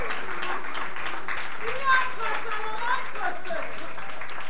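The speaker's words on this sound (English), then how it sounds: "Give the Lord a hand clap of praise for who He is this morning." A church congregation claps in praise during a worship service, a loose patter of hand claps running beneath a preacher's voice that keeps speaking throughout.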